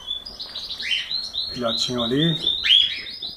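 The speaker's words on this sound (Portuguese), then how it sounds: "Vou dar uma filmadinha aqui nas aves dele, pra vocês estarem apreciando. Tem aqui os canários" Belgian canaries kept in a friend's aviary chirp and trill in a busy, continuous stream of high tweets, with someone speaking briefly over the birdsong.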